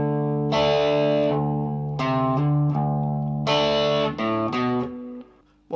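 An electric guitar with a distorted, effected tone slowly plays a riff of sustained chords and notes, loud and close, ending as the sound cuts off.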